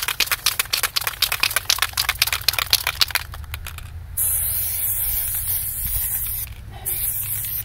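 Aerosol spray can of paint used over an acrylic stencil: a run of rapid short spritzes and clicks gives way to a sustained loud hissing spray, a brief pause, then another steady hiss, close by with no talking.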